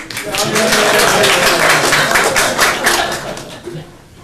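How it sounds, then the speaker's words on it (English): An audience at a county board meeting applauds for an honored staff member, a loud dense burst of clapping that tapers off near the end, with some voices in it. "Y'all clap for Mary."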